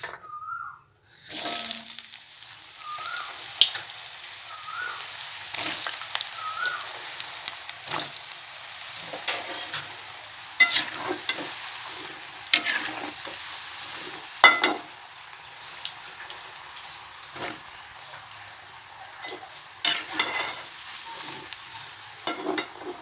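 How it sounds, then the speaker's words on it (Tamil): Close, steady sizzling and crackling of elephant foot yam pieces frying in hot oil in a kadai, with occasional sharper pops and stirring clinks throughout. "வடை சட்டில் எண்ணெய் ஊற்றி காய வச்சுருக்கேன் இதை பொறிச்சு எடுத்துக்கலாம்"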